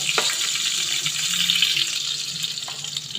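Garlic sizzles steadily in a hot oiled pan, a close, continuous hiss with faint crackles and a few soft clicks, no voices.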